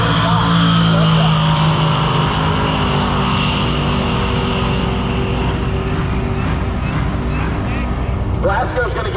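A 1986 Ford Mustang and a Dodge launch side by side at an NMCA drag race, their engines roaring loud and close before fading as they pull away, with an announcer talking over them.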